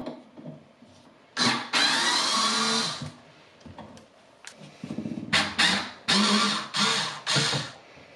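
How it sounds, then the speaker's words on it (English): Sanding a glued wooden drawer slider smooth: several short bursts of loud abrasive rasping, separated by quieter pauses, close by. "All I'm gonna do is sand it nice and smooth to get rid of any glue."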